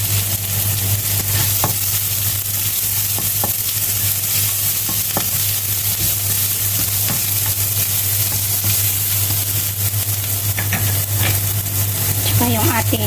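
Chopped onion sizzles steadily in a hot pan for pork afritada, with a continuous loud fry hiss and occasional scraping stir strokes throughout, no talking.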